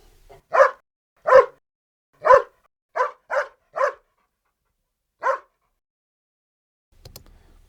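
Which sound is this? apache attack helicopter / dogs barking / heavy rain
dogs barking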